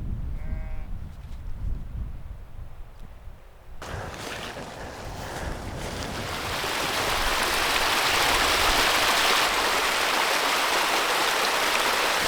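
Sheep bleating on a mountainside during a solo wild camp, a few short bleats early and then a steady rushing sound like a stream or wind building to a loud wash.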